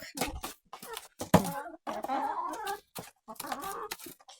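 Hens clucking softly in short bursts while being fed apples, with a voice talking over them nearby.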